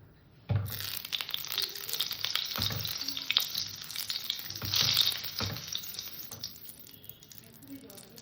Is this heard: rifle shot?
no